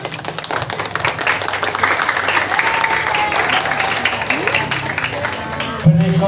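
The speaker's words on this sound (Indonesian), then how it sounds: "Jadi tepuk tangan untuk kita semua." Audience applause at a primary school farewell ceremony, a steady wash of clapping across a hall that holds for several seconds, with faint voices and a brief thump near the end.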